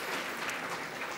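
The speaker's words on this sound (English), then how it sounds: "Applause." Audience at a tech conference talk on Java and GPUs clapping briefly, a soft, dense patter of applause that stays fairly faint and even throughout.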